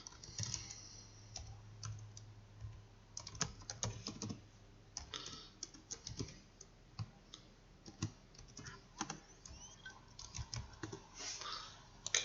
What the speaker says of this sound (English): Enter in the password when it requests it